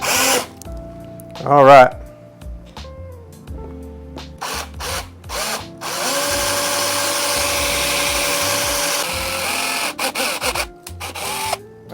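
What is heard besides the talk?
drilling holes for proton pack motherboard rivets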